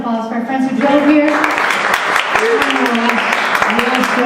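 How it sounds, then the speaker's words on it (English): An audience at a band's DVD screening and Q&A breaks into a round of applause for friends who drove in, sustained clapping with voices talking over it. "How about a little round of applause for our friends who drove here?"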